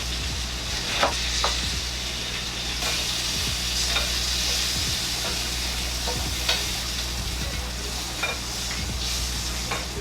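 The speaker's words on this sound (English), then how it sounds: "I'm going to try to sear these on all sides." Lamb shanks sear in a hot pan before braising, giving a loud, continuous sizzle with occasional spatters and pops over ten seconds and no speech.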